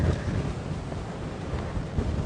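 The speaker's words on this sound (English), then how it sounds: "it is very, very windy" Strong wind gusting steadily across an open microphone during a morning safari drive in the bush, a continuous broadband roar with no pauses and no voices.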